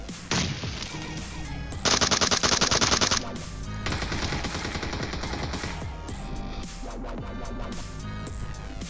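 Rapid automatic gunfire in the mobile battle royale game PUBG Mobile, with sustained loud bursts and one especially dense volley partway through, all close and continuous with no voices.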